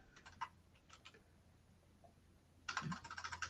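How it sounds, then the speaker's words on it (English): Keys are tapped on a computer keyboard in a quiet room, with a few scattered clicks and then a fast burst of close typing. "I'm typing something in our chat."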